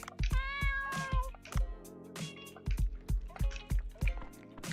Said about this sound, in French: On va nourrir le chat.